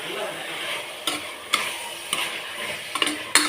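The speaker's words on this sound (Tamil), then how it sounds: "கறியை போட்டு இதில் வதக்கிடலாம்" Large chicken pieces sauté in a pan for a chicken gravy, giving a steady close sizzle broken by several sharp clinks of a utensil against the pan.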